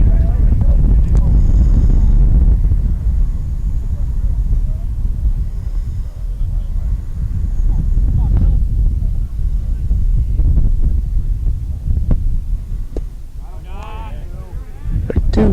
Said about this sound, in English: Wind whipping up again. Steady breeze at the moment.